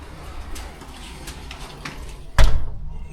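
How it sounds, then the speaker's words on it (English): Door in an old 1950s house swung shut with a single solid thud near the end, following faint shuffling and creaks in a quiet room. "and I'm going to shut this door"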